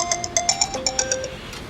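A mobile phone rings for an incoming call, its bright, repeating electronic ringtone pulsing loud and close in a steady rhythm with no talking over it.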